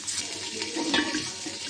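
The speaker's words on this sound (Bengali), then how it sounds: "পানি দিয়ে দেবো।" Water poured into a pot of frying onions with dried chili, cinnamon and cloves for chicken khichuri, a steady rushing splash with a brief louder gurgle near the middle.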